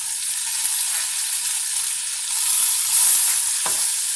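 Chicken pieces fry in a pan for a chicken marsala, a loud, steady close-up sizzle with a brief clatter near the end.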